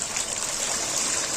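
Salted water at a rolling boil in a home kitchen pot with pasta going in, giving a steady close bubbling hiss that carries evenly from start to finish with no talking.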